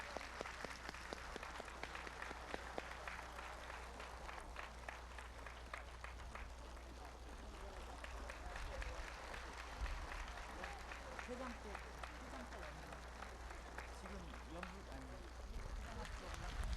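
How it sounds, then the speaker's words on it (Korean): A large audience breaks into sustained, dense applause at a Won Buddhist ceremony for the retirement of the Head Dharma Master, where a commemorative plaque and flowers are being presented. The clapping is steady and loud throughout, with faint talk underneath. "대중을 함께 우렁찬 박수로 경하해 주시기 바랍니다."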